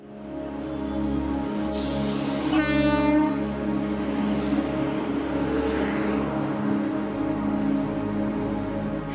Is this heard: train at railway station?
yes